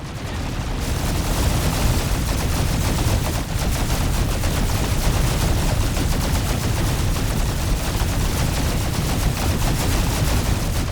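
Gunfire in Tactical Ops comes as a dense, continuous barrage of overlapping shots. It stays loud and unbroken the whole time, and no voices can be heard.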